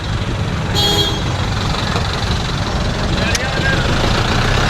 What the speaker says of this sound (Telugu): అమ్మో హైదరాబాద్ ట్రాఫిక్